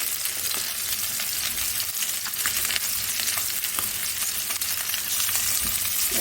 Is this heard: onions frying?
yes